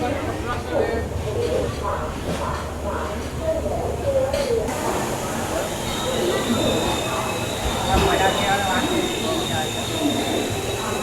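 A sleeper-class superfast express train pulls into an Indian railway station platform, with steady rolling rumble, clattering wheels and a brief squeal, while people talk nearby and a platform announcement sounds in the background.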